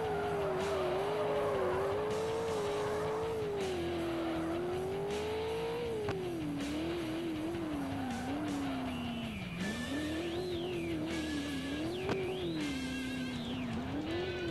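A car drifts in a racing video game, its engine revving and shifting pitch while the tires squeal loudly in long, sliding streaks throughout.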